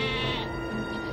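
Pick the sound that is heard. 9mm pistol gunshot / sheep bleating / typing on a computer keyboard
sheep bleating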